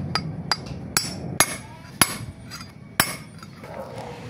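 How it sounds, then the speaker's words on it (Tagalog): A hammer gently taps a bearing into the torque drive of a Honda ADV160 scooter, giving about eight sharp metallic clinks at uneven intervals, close and clear over a low background hum. "Saka natin papaluin sa gilid, marahan lamang, ingatan natin ang bearing dahil madali itong masira."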